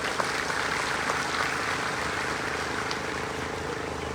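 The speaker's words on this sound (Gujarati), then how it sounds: "આપણે કાઠી રાજપૂત સમાજને 2 તાળીઓથી વધાવી લઈએ" Applause welcoming the Kathi Rajput community at a Kshatriya community gathering, a steady wash of many hands clapping, moderately distant and continuous, with no voice over it.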